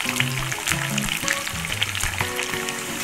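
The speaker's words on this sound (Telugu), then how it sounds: "ఆయిల్ వేడయ్యాక మనము పిండి పెట్టుకున్న కాకరకాయ ముక్కల్ని వేసుకోవాలి। ఇది బాగా ఫ్రై అవ్వాలండి।" Battered bitter gourd pieces fry in hot oil with a steady, dense sizzle and crackle that runs through the whole stretch, alongside some faint tonal sound.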